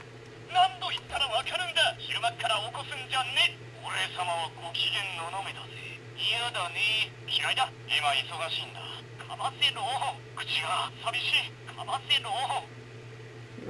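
Hidden electronic voice lines from a DX Kivat Belt toy for Kamen Rider Kiva, a string of short chirpy spoken phrases and squeaks over a steady low hum, bursting out in quick separate clips.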